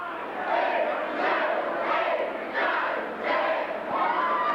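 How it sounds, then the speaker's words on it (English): Pro wrestling crowd in an arena chants a rhythmic count in unison, loud repeated group shouts rising and falling at steady intervals. "You can hear the crowd counting along"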